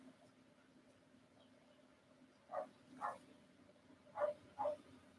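Four short barks from a dog at feeding time, somewhat distant, in two quick pairs after a quiet stretch with a low hum underneath.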